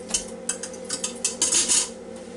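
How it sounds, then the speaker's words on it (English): A metal trivet from an Instant Pot is set down inside the pot, giving a few light metallic clinks and scrapes in quick succession, close and fairly clear. "I'll put this trivet down in there that came with this Instant Pot here"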